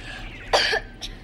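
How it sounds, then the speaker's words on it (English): A girl coughs after taking medicine: one harsh, close cough burst followed a moment later by a shorter second cough, with no talking. "Yeah, that stuff's making her cough."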